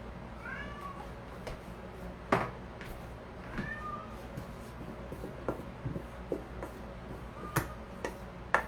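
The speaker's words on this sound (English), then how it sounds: "I know my cat keeps meowing and meowing" A house cat meows several times, short rising cries heard close by, scattered among clicks and light tapping sounds from a kitchen where baking is under way.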